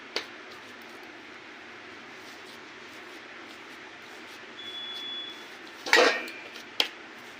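Hot flour dough stirred in a pot, a steady soft scraping under a faint hum, with a sharp clatter of a utensil against the pot near the end and a couple of brief clinks.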